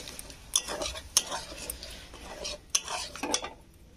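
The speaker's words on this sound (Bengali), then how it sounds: "টক দইটা দিয়ে এটা আমি ফের ভালো করে এটা কষে নেবো 2 মিনিটের মতো" Yogurt being stirred and fried in a pan, with a spoon scraping and clinking against the metal at a few distinct moments over a soft background sizzle, close and moderately quiet.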